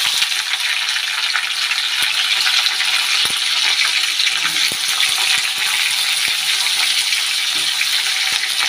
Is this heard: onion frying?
yes